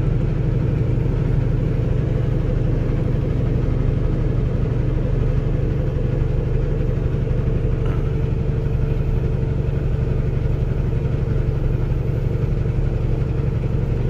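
A truck engine in 9th gear climbing a steep grade on Interstate 80 westbound near Laramie, Wyoming, drones in a loud, constant low rumble that holds steady from start to finish with no talking.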